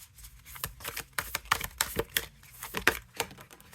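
Tarot cards being shuffled by hand nearby, a quick run of soft papery flicks and riffles with no talking.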